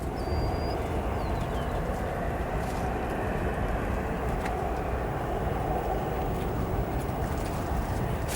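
A CRJ jet airliner on a parallel approach at O'Hare Airport, heard as a steady, broad engine roar that holds at an even loudness throughout with no pauses.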